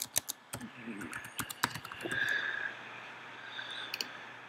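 Quick clicks on a computer keyboard while working in Photoshop, a few separate keystrokes and short bursts of typing, close and fairly quiet, with a brief soft hum in the middle.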